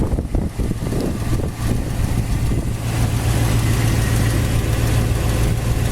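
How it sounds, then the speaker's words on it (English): A 1963 Mercury convertible with a 390 V8, freshly tuned with new plugs and wires, idles steadily, a close, even low rumble that stays smooth and constant throughout. "Engine runs nice and quiet."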